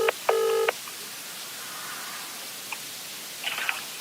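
Telephone keypad tones sound as a number is dialed on a phone, a short beep then a longer tone burst, followed by faint ringing tones later against a quiet hiss, with no talking.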